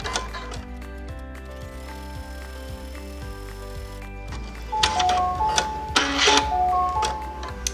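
An embroidery machine runs a tack-down stitch on a small piece of felt, giving a steady, rapid mechanical ticking and whirring, with brighter clattering bursts toward the end and no talk.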